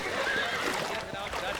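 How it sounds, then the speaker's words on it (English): A horse neighs in Red Dead Redemption, a short whinny over a busy game soundscape of water and movement, with voices talking through it. "Oh, these horses look fresher."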